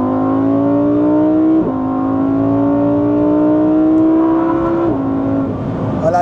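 A supercar's engine drones loud and close as it downshifts at high speed on a Dubai road, with the pitch dipping at each gear change and no talking.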